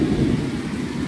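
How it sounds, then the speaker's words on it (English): Thunder rumbles low and heavy on a rainy day, a brief, fairly loud rolling roar with rain noise, and no voices. "I know y'all hear that thunder."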